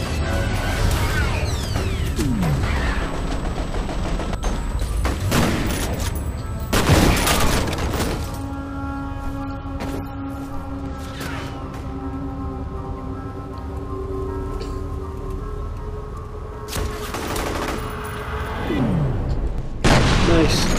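Gunfire in the first-person shooter F.E.A.R., with bursts of shots and loud booms spaced across the stretch, a steady noisy game ambience between them, and voices talking over parts of it.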